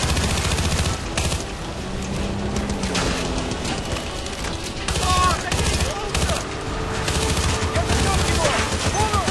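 Battlefield: Bad Company 2 gunfire crackles in dense, continuous bursts, automatic fire and scattered shots layered over rumbling combat noise, loud and close throughout the stretch.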